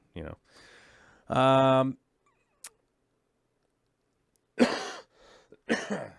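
A person coughs and clears their throat in a few harsh bursts, close by, separated by silence and a small click.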